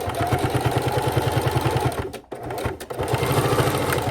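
Sewing machine stitching a pink line through a reverse appliqué quilt, running in a fast steady rhythm, briefly stopping midway, then starting again close and loud.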